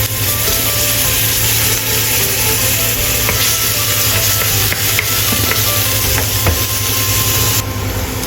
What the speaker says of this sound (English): Stir-fry chopped garlic.